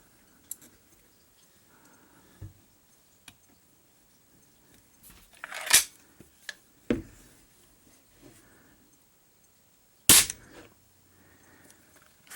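A .177 Baikal IZH-38 air pistol fires a few sharp, sudden cracks spaced seconds apart, with quiet handling clicks and faint background noise in between.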